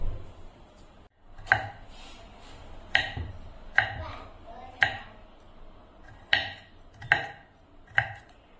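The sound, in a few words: chopping coconut flesh into small pieces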